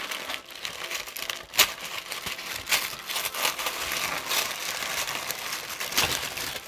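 Red parchment paper being handled during an art-box unboxing, crinkling and rustling continuously up close with sharper crackles now and then, no talking.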